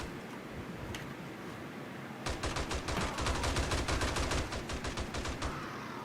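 Automatic turrets in the survival game 7 Days to Die open up after a quiet stretch, loosing a fast, sustained burst of rapid shots for about three seconds over background noise.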